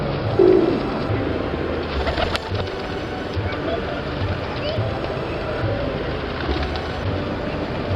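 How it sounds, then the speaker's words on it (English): Pigeons being fed in Soho Square, London, coo and flutter amid a steady urban hum, with a sharp clatter near the start. "I'm feeding the pigeons anyway"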